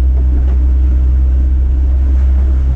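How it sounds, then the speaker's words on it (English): Fishing boat engine idling steadily at sea off the South Coast, a loud continuous low drone and rumble with no breaks or speech. "Let's cut the engine."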